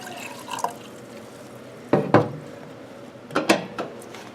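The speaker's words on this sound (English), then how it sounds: "we're going to pour that in until it's right below our valve." Distilled water poured into the reservoir of a lab autoclave, heard as a few separate splashing, trickling bursts with quiet gaps between them, close by and with no talking.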